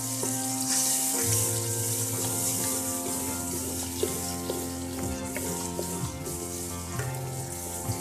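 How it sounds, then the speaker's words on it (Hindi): Masala for a fish curry sizzles and fries steadily in a pan, a constant close crackle and hiss with a few faint clinks of stirring, and no voices. "मसाले को हम थोड़ा सा भून लेंगे ताकि ये बिल्कुल ऑयल छोड़ दे"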